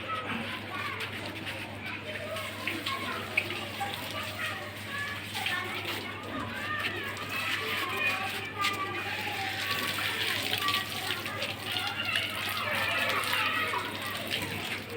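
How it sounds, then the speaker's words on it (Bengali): Tap water runs steadily as hands are wetted at a handwashing lesson, a soft continuous splashing gush heard under children's chatter and voices throughout. "চলো, সবাই প্রথমে জল দিয়ে হাতটা ভিজিয়ে নাও।"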